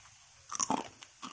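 Crunchy fried macaroni snack bitten close to the microphone: a few quick, crisp crunches in a short cluster, then a softer lone crunch as the chewing goes on, with nothing else heard.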